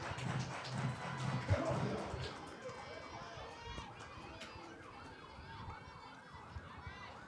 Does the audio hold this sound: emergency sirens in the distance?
yes